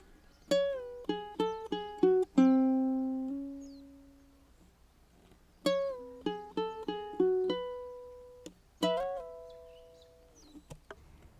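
Ukulele playing the two combined picking patterns from a song, bright plucked notes in quick runs with sustained ringing tones, two similar phrases repeated, close and solo.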